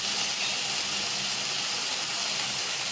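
Washed amaranth greens (sirukeerai) go into a hot pan with sautéed tomato and send up a loud, steady, close hiss of sizzling and steam that holds for the whole moment.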